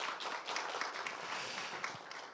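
An audience applauds at the 16th Social Worker's Day ceremony, a continuous patter of many hands clapping at moderate distance, fairly soft and sustained for the whole stretch without any voices.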